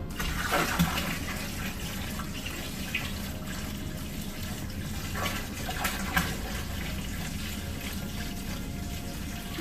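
RO water pours and splashes steadily into a container, a continuous rushing gurgle with a few louder sloshes, close by and without any talking.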